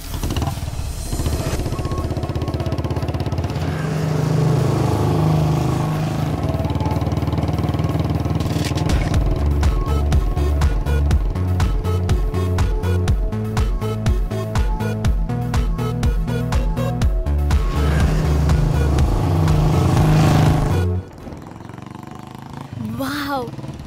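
A motorcycle engine drones and revs steadily under a loud musical score in a dubbed Hindi action film, then cuts off near the end.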